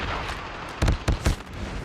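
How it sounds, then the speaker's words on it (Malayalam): Gunfire in the mobile shooter game Call of Duty Mobile: three sharp, booming shots in quick succession in the middle of the moment, loud against a low steady game background. "എടാ വെടി വെക്കടാ."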